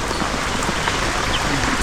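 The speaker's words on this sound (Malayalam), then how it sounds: "ഇതാ നല്ല മഴ പെയ്യുന്നുണ്ട്" Heavy rain falls steadily at a small roadside tea shop near Seetharkkund waterfall in Kollengode, Palakkad, a dense continuous hiss of drops with no voices.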